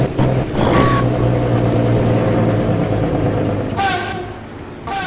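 A truck hauling a heavy load makes sharp air-brake hisses, one early and a longer release near the end, over a steady low engine rumble.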